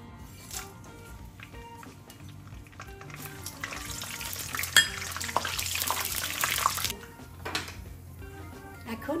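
Whole spices (two bay leaves, cinnamon, cloves, cardamom and cumin seeds) frying in hot white oil, a steady sizzle with crackles that rise and fall, stirred now and then, alongside faint background noise.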